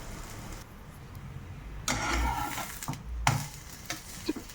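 Potato breakfast cake frying in oil in a pan, with bursts of sizzling that flare up in short waves over a low, steady background hiss.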